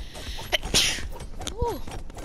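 A single short, sharp sneeze bursts out close by amid casual room noise, with a brief voiced sound shortly after.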